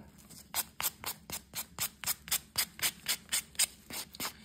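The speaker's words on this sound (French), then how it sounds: "je vais être rendue à limer mon ongle" A gel and powder nail filed with a block, giving a quiet, close, rhythmic rasping of about a dozen even back-and-forth strokes.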